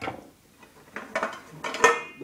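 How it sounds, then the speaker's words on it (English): Camping cookware being handled, with metal pots, a lid, a frying pan and a kettle knocking and clanking together in a few separate bursts, close and moderately loud. "the pot lid, and 3 different sized pots that fit in together, plus the kettle"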